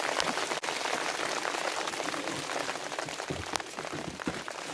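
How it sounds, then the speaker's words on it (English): Heavy rain pattering densely on a surface nearby, a steady hissing wash with individual fat drops smacking through. "Wow, these are some huge raindrops."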